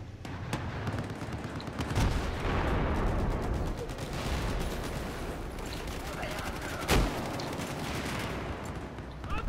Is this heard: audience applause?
no